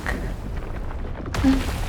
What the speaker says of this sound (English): Wait, what's that sound? Well, explosion.